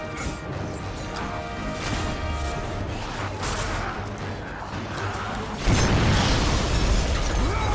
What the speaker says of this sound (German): Hat mir anscheinend aber nicht wehgetan, die Explosion.